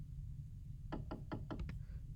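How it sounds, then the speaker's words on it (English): Door sound samples: a run of about six sharp wooden knocks that come faster toward the end, heard alone over a steady low rumble. "these are just samples of doors"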